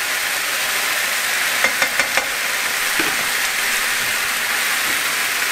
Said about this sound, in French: la viande commence à cuire